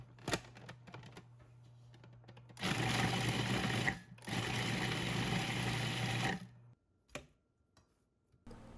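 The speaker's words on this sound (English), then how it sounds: "Since my food processor isn't big enough for 2 pounds" Food processor chopping broccoli in batches, two loud whirring bursts of a few seconds each with a brief pause between, over a steady motor hum and followed by light clicks.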